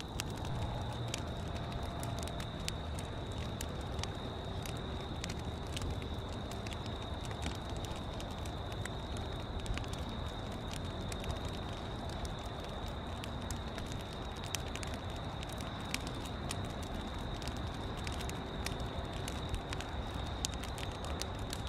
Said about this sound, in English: Isn't that so relaxing, just sitting there, staring at the fire, listening to it, you know, crackle and creak and all those awesome noises?